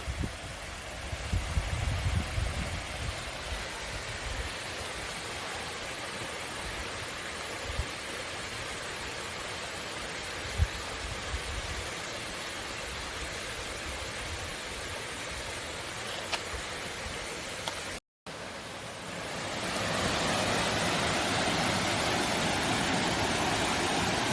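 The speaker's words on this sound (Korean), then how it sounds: "물이 많이 녹아가지고 수량이 아주 좋습니다. 그래서 물소리도 아주 좋고" Spring meltwater rushing down a mountain stream in a valley of Bukhansan near Ui-dong, a steady full roar of flowing water heard close by, with a brief dropout and then a louder, brighter rush near the end.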